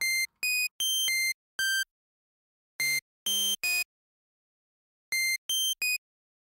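A hardstyle FM screech synth patch built in Sytrus inside FL Studio plays short, bright, buzzy stabs in a choppy rhythm, with gaps of silence between bursts and a few lower, thicker hits in the middle.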